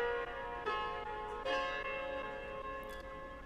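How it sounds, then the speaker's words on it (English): A bright, bell-like piano melody plays in an FL Studio hip-hop beat, a few ringing struck notes with long sustained overtones, fairly quiet and without voices. "Let me turn the piano up, you can hear."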